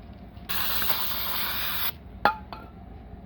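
Water sprayed to rinse off the engine mount area of a car: a loud hissing burst lasting under a second and a half, then a couple of short squirts with brief gaps between them.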